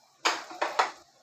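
Utensils are gathered up from a kitchen counter in three quick, close clattering knocks of metal and dishware.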